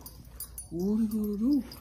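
A pet puppy lets out a single drawn-out whine or whimpering vocalization up close, rising slightly at the end, over quiet background.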